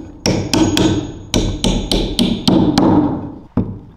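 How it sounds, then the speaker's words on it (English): A hammer drives a nail into wood with about a dozen sharp, ringing blows at an uneven pace, loud and close, with no talking. "You put that nail in there and it takes up that negative space, and now it's spring loaded. You could hammer it into position."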